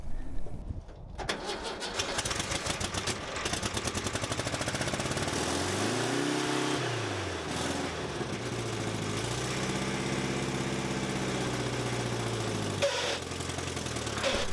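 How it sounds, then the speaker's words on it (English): The engine of a 1950s Snow-Trac snowcat, unused for years, cranks and catches, then runs roughly with its pitch sagging and recovering as if starved for fuel, steady and close throughout. "it also sounds like the engine is starving for fuel"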